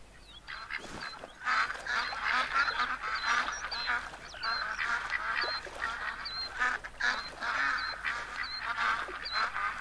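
Ducks quack and honk repeatedly over a steady background hum, calls overlapping in a busy, continuous chatter, in the hunting video game theHunter: Call of the Wild.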